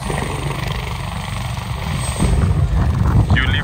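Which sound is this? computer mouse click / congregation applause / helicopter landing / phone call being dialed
helicopter landing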